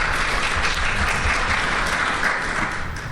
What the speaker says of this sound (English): So please join me in welcoming Representative Benning